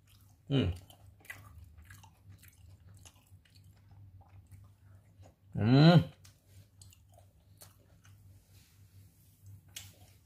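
Indonesian kue putu and klepon being chewed close to the mic, with two distinct bursts of wet, squishy mastication and a few faint clicks against a quiet hum.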